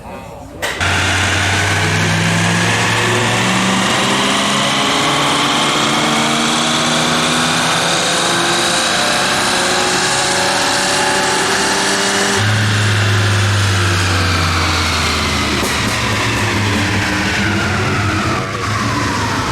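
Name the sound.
1985 Ford Mustang GT engine revving on a dyno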